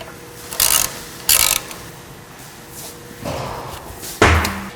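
Mechanical clanks and ratcheting while front wheels come off a Toyota Tacoma, several short bursts spaced a second or so apart, then a louder metallic thud near the end, close by in a garage with no voices.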